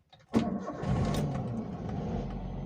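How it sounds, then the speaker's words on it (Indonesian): A car engine running on Pertalite fuel cranks briefly, catches with a sharp start and settles into a close, steady idle as it warms up. "Ini sudah menyala, kita nyalakan mesinnya teman-teman"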